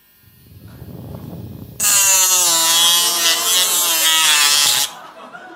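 A buzzing drill sound effect in a comedy audiobook cuts in after a brief murmur, a loud harsh electric whir lasting about three seconds before stopping abruptly.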